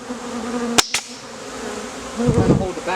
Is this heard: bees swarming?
yes